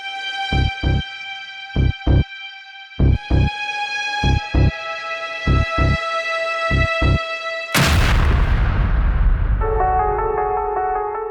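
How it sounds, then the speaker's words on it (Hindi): A series of sharp percussive hits over sustained ringing tones, then a sudden loud boom-like laptop explosion that decays into a lingering wash, with tones resuming after. "धमाका"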